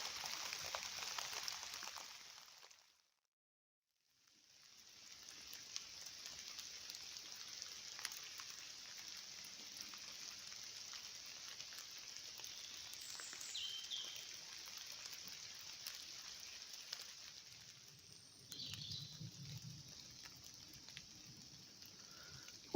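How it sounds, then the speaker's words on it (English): Rain drips off trees in woodland, a soft steady patter of drops heard faint and distant, briefly falling silent before resuming, with a few far-off bird calls. "I do love to hear rain dripping off the trees"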